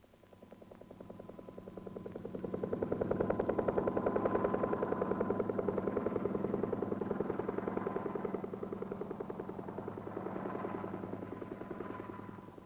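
Air Force helicopters surveying a nuclear test blast area in Nevada, a steady rapid rotor chop with a continuous buzzing drone, swelling and easing slightly, at moderate distance.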